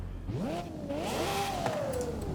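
A Lexus LC sports car engine in Forza Horizon 5 revs up, its pitch climbing and wavering through a throttle blip before settling into a steady, loud whine, alone without talk.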